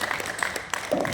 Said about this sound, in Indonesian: Beri tepuk tangan dong untuk Bu Susti ya.